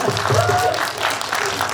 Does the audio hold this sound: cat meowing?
no